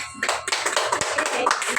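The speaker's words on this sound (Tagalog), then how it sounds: "Bigyan na natin ng palakpak si Caitlin." Scattered hand claps from a small group of students in a classroom, uneven and brief, over a soft room background.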